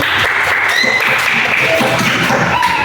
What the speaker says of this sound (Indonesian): kasih tepuk tangan buat teman yang sudah maju